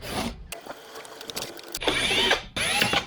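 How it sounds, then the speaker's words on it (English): Ratcheting clicks from a tool driving self-tapping screws into a knobby tyre setup, two close bursts of rapid mechanical clicking with a short pause between. "let's just screw that in"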